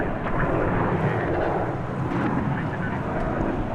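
An EVA Air Boeing 777 departing DFW produces a loud, dense, continuous jet rumble with a broad roaring texture, steady across the few seconds.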